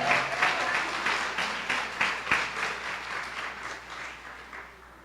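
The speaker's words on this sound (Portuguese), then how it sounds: "Dê uma salva de palmas ao Senhor." A church congregation applauds during a service, steady massed clapping that carries evenly for several seconds and then gradually fades.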